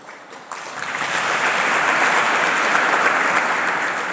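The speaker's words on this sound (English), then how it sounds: "Can you clap for them?" Applause from a conference audience starts after a brief quiet moment, quickly swells into a full, dense round of clapping and holds steady to the end without any voices on top.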